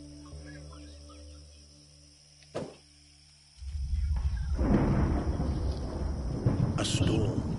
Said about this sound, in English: A storm rumbles in the distance.